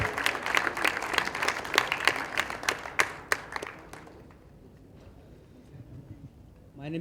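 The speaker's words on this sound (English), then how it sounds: "guys, can we all clap?" An awards ceremony audience claps for students, a brisk burst of many hands that peaks and then fades out after about four seconds, leaving a quiet room with faint murmurs.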